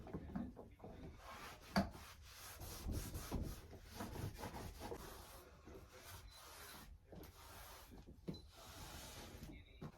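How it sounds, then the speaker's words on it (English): A cloth wipes a bathroom counter and sink, making faint, continuous scrubbing and rubbing strokes with occasional soft knocks. "I'm gonna take my cloth and just clean everything so nicely"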